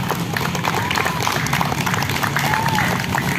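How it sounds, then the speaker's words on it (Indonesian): Applause for a fifth-grade student named Rafli at an elementary school literacy session, a steady dense wash of clapping from a classroom group lasting throughout, with voices mixed in. "tepuk tangan sekali lagi buat Rafli"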